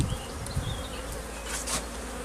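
Dense, steady buzzing of many honeybees at a crowded hive on the verge of swarming, a continuous close insect drone with a few louder swells as bees pass near.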